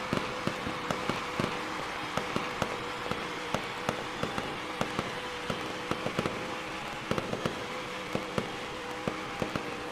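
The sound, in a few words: fireworks going off after race win in NR2003 video game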